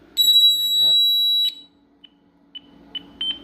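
A loud, steady electronic tone from a Honeywell home alarm system, triggered at a back kitchen window, holds for over a second and cuts off, followed by a few short, fainter beeps.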